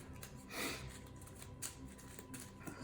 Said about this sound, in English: So shuffle up the turn deck.